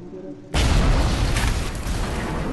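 Gunfire erupts abruptly in the video game Bioshock: a sudden loud blast gives way to a continuous, dense roar of shots and booms that fills the rest of the moment after a brief quieter lead-in.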